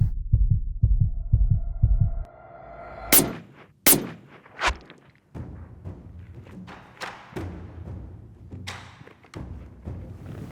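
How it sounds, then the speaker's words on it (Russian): A rifle fires while hunting wild goat in Iran's mountains: a sharp, loud crack, followed by a second report and lighter handling knocks, after low thumping at the start. "Я стреляю."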